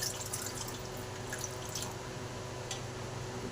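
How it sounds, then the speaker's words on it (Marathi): Water is added to ration rice in a bowl so it can soak for idli and dosa batter, making a soft, steady trickle with light dripping, faint and close, with no voices. "आता ह्याच्यामध्ये चांगलं पाणी ॲड करून मी भिजत घालते"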